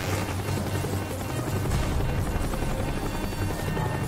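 A helicopter in the video game Call of Duty Black Ops thunders close by, its dense, continuous rotor chop and engine roar filling the whole moment at a steady loudness.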